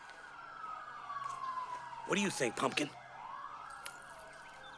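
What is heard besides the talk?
emergency vehicle sirens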